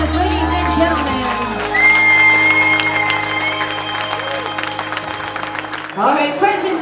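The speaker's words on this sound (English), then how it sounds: "Mr. and Mrs. Steele, big round of applause," Wedding guests cheer and whoop for the newlyweds at the reception, loud mixed shouting and crowd noise with some clapping over background music, swelling again near the end.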